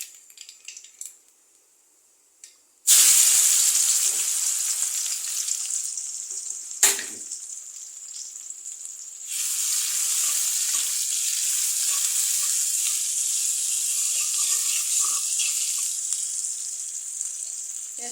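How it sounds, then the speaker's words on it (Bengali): Crushed onion, garlic, dry chili and nigella seeds drop into hot oil and set off a loud, sudden hiss that settles into a long, steady sizzle, with a clank partway through and the frying swelling again later. "পেঁয়াজটা একটু ভাজা হোক।"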